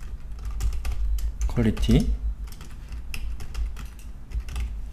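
Quick bursts of typing on a computer keyboard, close and fairly quiet, clicking in irregular runs while someone talks in Korean over it.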